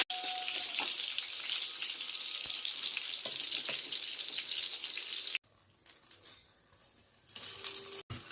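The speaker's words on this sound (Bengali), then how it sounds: "বেগুনটা ভেজে দেবো" Eggplant crackles and hisses as it fries in oil, a dense sizzle that drops away abruptly into quieter kitchen sounds, then briefly returns.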